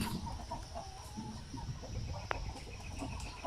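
Chickens on a poultry farm in hot weather cluck in a low, steady murmur of several birds, with one brief sharp call standing out near the middle, fairly faint throughout.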